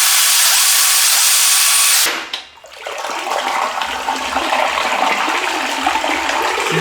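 Water rushes loudly through a just-unclogged household drain, a steady torrent that cuts off abruptly after two seconds, followed by a softer gurgling flow that continues close by.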